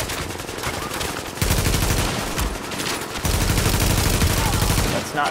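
Sustained automatic gunfire in Tom Clancy's The Division, rapid loud bursts of shots with brief pauses, a voice occasionally shouting over the shooting.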